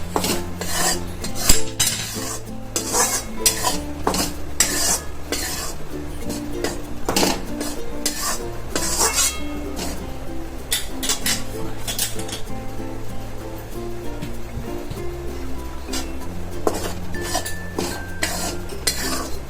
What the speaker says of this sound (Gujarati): ગેસ ગેસ ચાલુ કરશું અને લોટને થોડો શેકી લઈશું પહેલાં કોરો જ કોરો લોટ શેકાઈ જાય